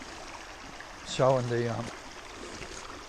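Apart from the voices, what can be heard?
flowing creek water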